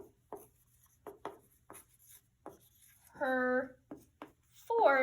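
A pencil scratches across paper in several short strokes between bursts of speech, with close, dry, rhythmic scribbling sounds.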